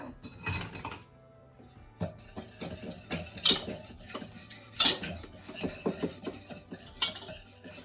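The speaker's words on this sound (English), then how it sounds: "And it says to whisk this" Dry ingredients for fall cookies, including salt, are whisked in a bowl, heard as a quiet run of rhythmic metallic clinks and scrapes with no voices.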